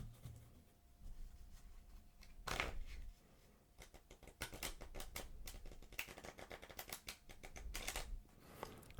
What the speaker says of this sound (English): At first, your shuffles may look something like this.